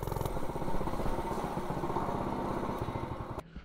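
A small 98cc motorbike engine, modified to rev higher, runs hard with a buzzing, rattling drone, holding steady before cutting off abruptly near the end.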